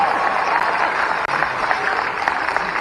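Loud, steady applause from an audience at a public scheme-launch event honouring a young woman singer, dense clapping holding evenly throughout with a brief dropout midway.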